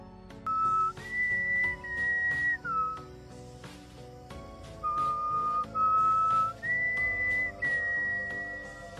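A person whistles a slow melody of held, clear notes in two phrases separated by a short pause, close and fairly loud.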